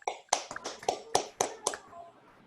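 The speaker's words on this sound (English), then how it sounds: "You have to unmute yourself so we can give him an applause." Online audience applause after a physics lecture, a handful of sharp, separate claps and taps from unmuted participants, irregular and fairly close, fading out near the end.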